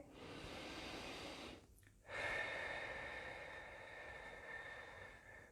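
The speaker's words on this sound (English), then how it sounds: "So just breathe that in again." A slow, deep breath drawn in through the nose, quiet and close, with a brief pause before a longer, fuller inhale that fades gently.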